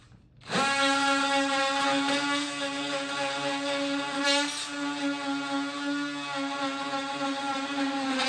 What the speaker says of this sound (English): flush cut blade to quickly cut this trim off and go ahead and cut all the way around through the door jamb